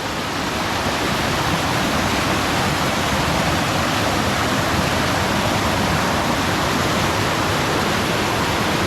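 Water rushes loudly over large rocks at Kadavupuzha in Kottayam, a close, powerful and unchanging roar that fills the whole stretch with no other sounds.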